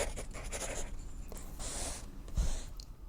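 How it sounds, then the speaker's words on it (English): Pencil scratching across paper, a steady run of soft dry strokes close by, with brief pauses and a slightly louder scrape near the end, no voices. "Bellamy falls asleep listening to the scratches Clark's pencil is making on paper"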